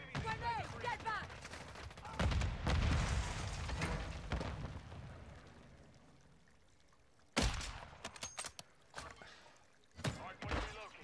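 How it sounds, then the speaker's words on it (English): Video game combat: bursts of gunfire and a heavy blast crackle loudly in several short clusters, with a voice talking between them. "Grenade, get back."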